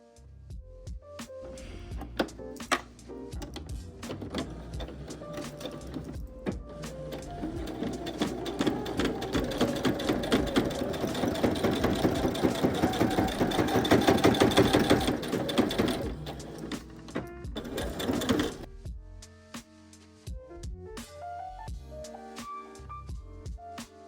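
A sewing machine top stitches close to the upper edge of a turned-down, pressed flap on a vest. It runs in a steady close-up whir that builds in speed, then slows and stops with a few short bursts.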